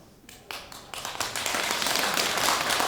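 Audience clapping during a Buddhist Seon meditation session, a few separate claps at first that quickly swell into dense, sustained applause from many hands, moderately loud.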